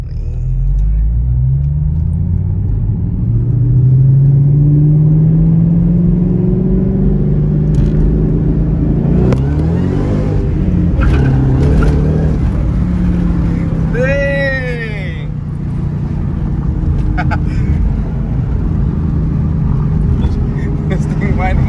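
A 2013 Shelby GT500 heard from inside the cabin while driving, its engine droning loudly and rising in pitch as it accelerates, with someone talking over the steady rumble.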